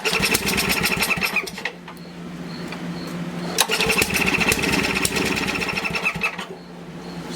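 A mini bike's small engine runs cold and rough, a loud continuous buzzing putter with uneven revving that briefly drops twice, heard up close with no talking.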